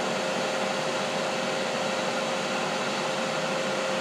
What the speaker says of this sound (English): I apologize for the noise of the Ninja grill warming up, but that fan really gets moving in there